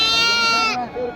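A single sheep bleats loudly and close by at a livestock market, a wavering, nasal call lasting about a second before it cuts off.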